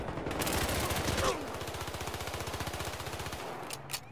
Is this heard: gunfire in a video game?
yes